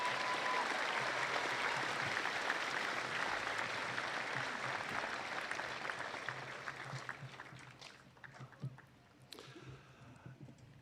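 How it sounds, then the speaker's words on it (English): An audience at a high school graduation ceremony applauds distinguished guests: dense, steady clapping from a large crowd that holds for about eight seconds, then thins out and fades to scattered claps. "Maybe we have a round of applause for our distinguished guests."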